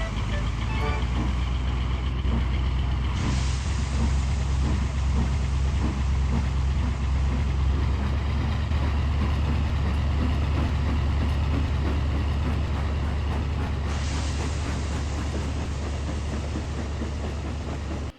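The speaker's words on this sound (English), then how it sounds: "Virgil, with Richie in tow, left with the flying kipper." A model train pulling the Flying Kipper departs with a continuous low rumble and rolling clatter, while a voice talks over it throughout.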